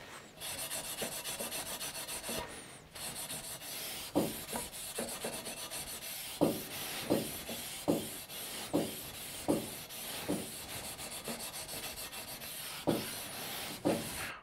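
Stainless steel surface being rubbed by hand with a folded Norton BearTex non-woven pad to clear a weld burn mark, a steady rasping scrub broken by about a dozen sharper, rhythmic strokes, close and alone.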